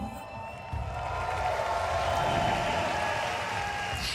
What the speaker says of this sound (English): There's definitely some mixed cheers here.